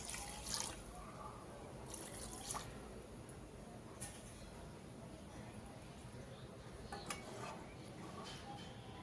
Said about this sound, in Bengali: এখন দিয়ে দেব ঝোলের জন্য পরিমাণ মতো জল।